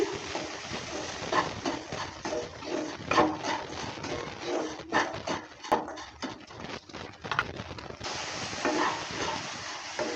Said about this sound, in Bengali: জলটা দেওয়ার পর ভালো করে আবারও নেড়ে চেড়ে নিচ্ছি